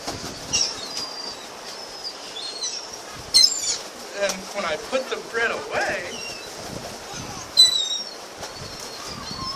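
Flock of seagulls gathering outdoors around someone with bread, with bursts of wing flapping and faint high calls scattered through, while a person talks throughout.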